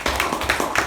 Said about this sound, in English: can we have a huge round of applause for the evaluator and the speaker?